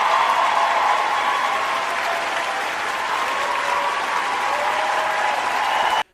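Applause sound effect, a dense, steady roar of many hands clapping at a constant level from start to finish, then cutting off abruptly at the end.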